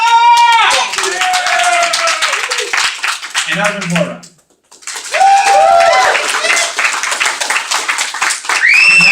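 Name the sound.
audience applause for debate candidates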